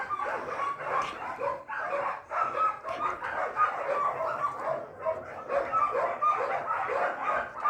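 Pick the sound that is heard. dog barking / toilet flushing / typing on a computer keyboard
dog barking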